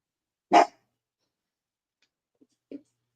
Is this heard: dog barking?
yes